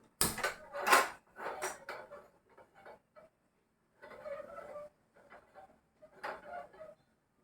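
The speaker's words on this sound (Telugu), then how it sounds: "ఇవ్వండి పొయ్యి మీద పెడుతున్నాను" A cooking pan is set on a stove before tempering, with a series of sharp metal clanks and knocks, some close and bright and others softer, scattered irregularly between quiet gaps.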